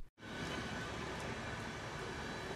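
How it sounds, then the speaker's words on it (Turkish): The Ada commuter train running on the Mithatpaşa rails on its Istanbul–Sakarya route gives a steady, loud, broadband rumble and rail roar that starts abruptly and holds constant throughout, with no voices. "binlerce insanın ulaşım aracı olarak kullandığı ada treni Mithatpaşa raylarında seyretmeye devam ediyor"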